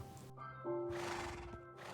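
Horses neigh and whinny in Minecraft version 1.6, loud, with a long high whinny in the middle, layered over other horse calls and a hint of clip-clopping hooves.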